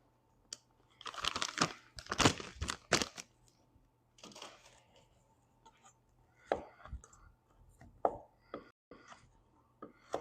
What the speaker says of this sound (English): Just going to do a rough chop on it.